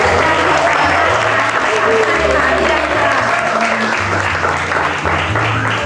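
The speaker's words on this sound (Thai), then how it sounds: "ขอเสียงปรบมือดังๆนะคะ" A large audience applauds loudly and continuously, clapping filling the room with a dense, steady roar under some faint voices.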